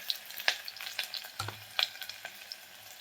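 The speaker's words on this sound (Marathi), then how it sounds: "तर तेल गरम झालंय बघा, मी कांदा टाकते." Chopped onion frying in hot oil in a pan, a soft steady sizzle with light crackles and occasional stirring clicks, close and quiet, no talk.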